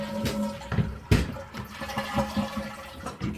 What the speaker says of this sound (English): And when you do that, you're going to flush the toilet.